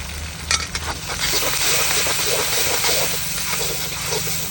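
Finely chopped tomatoes sizzle and are stirred into browned onions in a pan for a Maharashtrian dubuk vade curry, giving a steady close frying hiss with scraping spatula strokes near the start.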